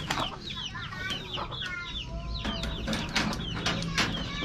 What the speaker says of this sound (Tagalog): mga decaled white at yung mga nandito na decaled brown na manok ko